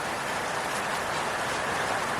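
Rain from a passing thunderstorm pours down in a steady, fairly faint broadband hiss with no distinct thunder and no talking.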